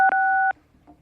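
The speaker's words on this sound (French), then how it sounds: "ne jouez pas trop avec le téléphone parce que ça fait un drôle de bruit dans l'oreille" Keypad tones sound on a telephone line during a call: two short loud beeps, the second held briefly, followed by quiet line noise and a faint brief blip.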